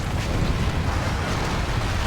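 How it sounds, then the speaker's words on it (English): Slinger bomb explosions in Monster Hunter World go off as a dense, continuous roaring rumble with heavy low end, steady and loud throughout with no clear separate blasts. "I guess I took the slinger bombs."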